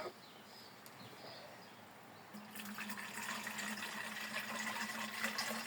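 Two litres of water pour steadily into a marked container, the splashing fill getting louder after a quiet start.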